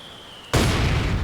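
A mortar explosion in the WWII strategy game Company of Heroes 2: a sudden loud boom erupts after half a second of quiet and rolls on as a broad rumbling burst.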